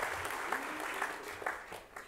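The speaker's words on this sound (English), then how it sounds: "A round of applause for Jason." An audience at a community event in Hamilton claps, the applause steady and fairly close with a few louder bursts, over a short stretch with no talking.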